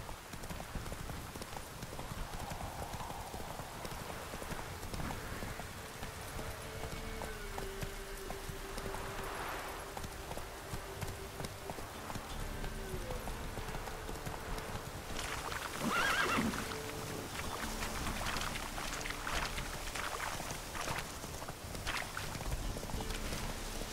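Roach, a horse in The Witcher 3, clip-clops along at a walk and lets out neighs and whinnies, steady hoofbeats running under a busy game soundscape with no talking.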